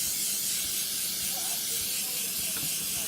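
Cooking spray hissing steadily and continuously into the holes of a pan, close up and loud for the whole stretch.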